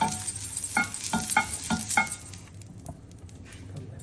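Nachni (finger millet) amboli batter is spread over a well-heated, oiled iron griddle. A few sharp clinks of a utensil come first, then a soft, continuous sizzle fades in the background. No voices are heard.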